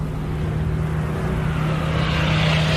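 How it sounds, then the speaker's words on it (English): A pair of P-47 fighter planes dive overhead, their engines a loud, steady droning roar that swells slightly as they come closer. "a pair of P-47 fighters drop through the clouds"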